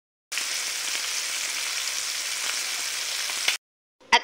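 Homemade calamares sizzle hard in a pan of hot oil, a steady bright hiss lasting about three seconds before cutting off, followed by a brief clatter.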